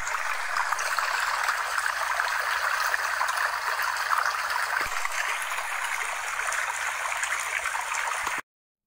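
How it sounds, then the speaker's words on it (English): Water runs steadily from a tap during handwashing, a continuous close rushing and gurgling stream that stops abruptly near the end. "Washing your hands."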